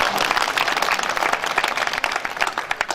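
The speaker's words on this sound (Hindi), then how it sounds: "तो बुजुर्गों के सम्मान में एक बहुत बढ़िया तालियां आपने बजाई" An audience at a Hindi poetry recital honouring elders claps steadily, a dense continuous round of applause throughout.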